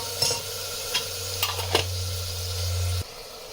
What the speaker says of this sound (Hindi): इसको अच्छे से हमें टमाटरों को मसालों में मिक्स करना है।